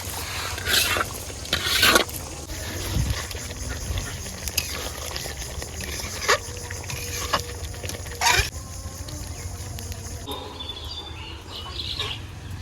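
Beef with fried onions being stirred and sautéed in a pan for a wedding-style beef curry in a village kitchen: a steady sizzle broken by scattered scrapes and clinks of stirring, with faint birdsong in the background.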